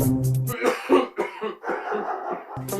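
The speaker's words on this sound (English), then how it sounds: "He was coughing louder than a trotro engine." A man coughs hard and repeatedly in a rough, hacking burst, with throat clearing mixed in among the coughs, loud and close.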